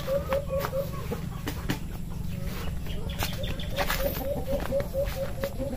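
A brooding hen on a backyard farm gives repeated soft, rhythmic clucks in short runs, fairly close, over a steady low background hum.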